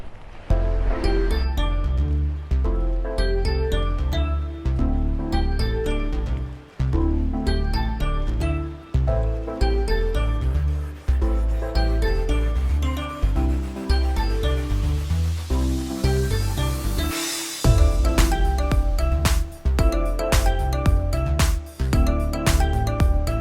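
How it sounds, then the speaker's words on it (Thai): Roaring waterfall in Iceland heard from the space behind the falling water, a loud, continuous dense rush with splashing texture and crackling droplets throughout. "เป็นบรรยากาศด้านหลังของน้ำตกนะครับ"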